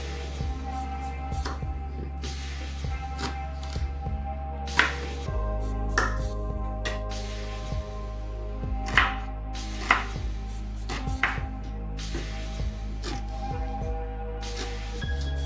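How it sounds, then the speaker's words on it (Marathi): Raw green mango being cut into pieces with a knife on a board, giving a steady run of sharp chopping taps over a low constant background hum, close and fairly loud, with no talking. "कैरीचे तुकडे करताना त्यामध्ये सहजता असणं गरजेचं आहे."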